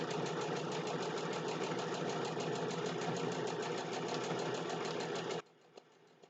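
Domestic sewing machine running steadily as it stitches fabric for a Christmas table runner, a continuous fast mechanical whir and needle clatter that stops abruptly, leaving a few soft clicks.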